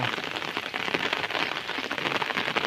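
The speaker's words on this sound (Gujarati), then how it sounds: "તમને બતાવી દઈએ હજી વરસાદ ચાલુ જ છે" Rain falls steadily in a village, dense pattering of drops on surfaces throughout, close and continuous with no voices.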